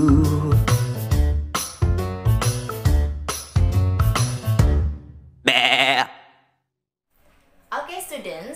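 A sheep bleats in a short wavering burst near the end of a children's song, with singing and music before it and a second, fainter bleat after a brief silence.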